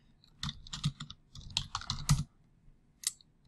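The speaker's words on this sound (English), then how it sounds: "So now I just need to type in Python." Close, quiet typing on a computer keyboard beside a Raspberry Pi, with irregular bursts of keystrokes broken by short pauses and one last isolated tap.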